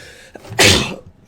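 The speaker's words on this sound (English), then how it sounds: "That was a good sneeze." A single close, loud sneeze bursts out after a brief quiet lead-in, during a Magic: The Gathering Online session of a Modern Izzet Murktide deck.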